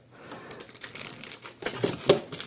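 Plastic bag crinkling while a microscope kit of tweezers, screws and slide case is unpacked, a run of soft close rustles and crackles with a couple of sharper crinkles near the end.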